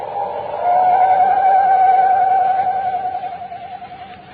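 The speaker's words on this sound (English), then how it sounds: "No wonder the mournful screech of the owl had a familiar sound to Chuck." A single long, wavering high owl screech rises and slowly fades, sounding hollow and mournful against a quiet background, in an old-time radio drama.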